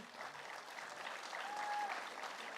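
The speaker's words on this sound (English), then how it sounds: "let's give a big round of applause for everybody" Steady applause from an audience at a school graduation ceremony, a dense patter of clapping that holds at moderate loudness for the whole stretch, heard from a distance.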